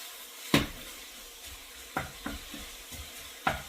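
Bacon cooks in a pan for clam chowder, a soft sizzle punctuated by several sharp scraping and clattering stirs at irregular intervals, fairly close.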